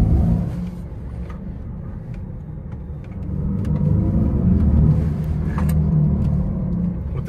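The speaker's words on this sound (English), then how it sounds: "What the vehicle is doing is it's creating an artificial sound to mimic the actual motors." Mercedes-Benz EQE electric car playing its artificial motor sound in Sport Plus mode, a low synthetic hum that swells louder midway, with faint clicks scattered over it.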